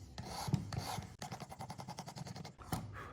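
Broadheads being sharpened on a Stay Sharp Precision knife sharpener, with a quick run of repeated close-up rasping strokes, steady and gritty, and no talking.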